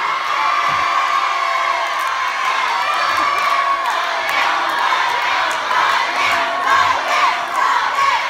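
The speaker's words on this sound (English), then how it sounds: "Keep screaming until the results come out." Audience at a talent show quarter final screaming and cheering nonstop, a loud, dense wall of shrill voices and whoops that holds steady throughout.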